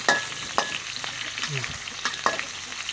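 Steady sizzling and crackling of beef stir-fried with holy basil in a wok, with rhythmic scraping and clanks of a spatula against the pan.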